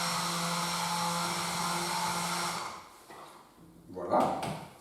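A mixer whirs steadily for a few seconds, blending a hydrodispersible texturizer product into water, then cuts off, followed by quieter handling noises and a brief louder rustle.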